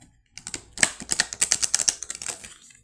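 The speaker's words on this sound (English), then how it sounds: "This is how I would shuffle first." A deck of cards being shuffled, a quick flurry of crisp riffling clicks for about two seconds, close and fairly clear.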